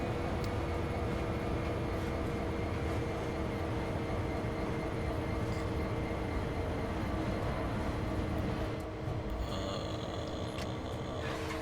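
Steady diesel rumble of an SD40-2 locomotive running in Train Sim World 4, a continuous engine drone with rail noise that holds evenly throughout, with a brief higher mechanical tone near the end.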